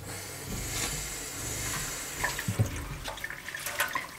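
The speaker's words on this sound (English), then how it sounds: "it's really nice having running water in here" Tap water running in a skoolie bus conversion during a shower wall build, a steady close hiss with a few small splashes and clinks near the end.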